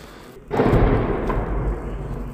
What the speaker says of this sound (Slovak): Práve výbuchy, ktoré počúvame, to sú vzdialenosti možno 200-300 metrov za vedľajšou budovou.